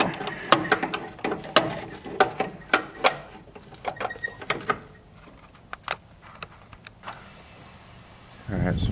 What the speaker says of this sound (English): the gear is on the chain, so the chain turns when I turn this